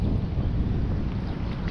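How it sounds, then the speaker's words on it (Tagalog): Wind blowing over a small fishing boat out on deep water, a steady low rushing roar buffeting the microphone without a break, fairly loud and close, with no voices. "Hangin yun."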